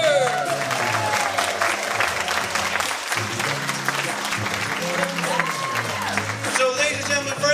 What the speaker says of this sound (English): Everyone give a big round of applause for Mr.